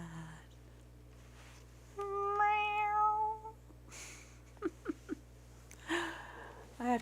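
A pet cat named Morpheus gives a rising-and-falling meow, with further short meow-like cries later, heard outdoors in a quiet setting alongside brief human vocal sounds.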